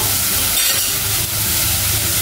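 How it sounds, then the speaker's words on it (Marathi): Onion and tomato sizzle in a pan with a steady, loud frying hiss that stays even throughout with no pause. "कांदा टोमॅटो शिजतोय"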